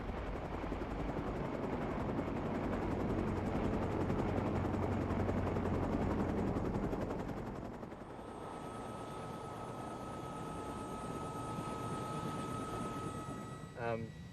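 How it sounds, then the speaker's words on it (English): Helicopters arriving for earthquake rescue in remote mountain villages, a loud steady rotor roar that drops to a quieter distant drone halfway through, with narration over it. "As the helicopters started arriving"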